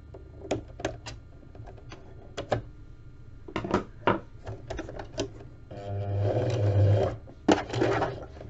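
Sewing machine putting the first stitches into coiled rope for a round rope basket, short bursts of rapid mechanical stitching broken by pauses, ending in a longer, louder whirring run, close by.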